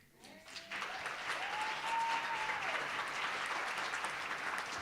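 Audience at a women's awards ceremony snapping fingers in appreciation after a spoken-word piece, a dense, steady crackle of many snaps filling the room, with a brief faint tone rising under it.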